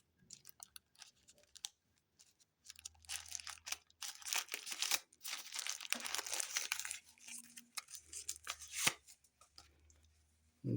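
Speaker packaging for a Soundcore Motion Boom being opened by hand, with soft crinkling, tearing and scraping of cardboard and plastic in irregular bursts, close and fairly quiet.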